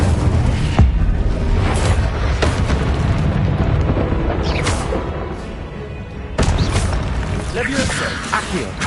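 Loud continuous battle noise from the Hogwarts Legacy game as the Incendio fire spell is cast, with repeated whooshing bursts and booms layered over a dense roar, and a sharp surge near the end.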